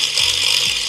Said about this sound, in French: Pour l'étape de polissage, j'utilise une mini polisseuse électrique rechargeable.